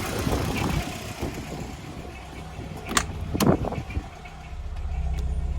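Volkswagen Golf engine with a freshly adjusted carburetor, idling close by with a low, uneven rumble, broken by sharp metallic clicks and short bursts of handling noise in the middle before the idle steadies.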